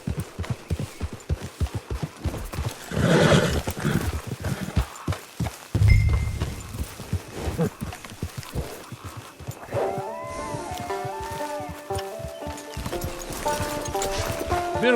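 Horse hooves clop in a steady rhythm, with occasional snorting, in a Red Dead Redemption 2 scene approaching a camp, where music swells in toward the end.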